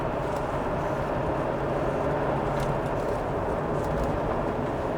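Toyota Supra SZ-R with a naturally aspirated 2JZ inline-six engine cruising smoothly, a steady broadband engine and road hum mixed with interior noise, constant and moderately loud throughout.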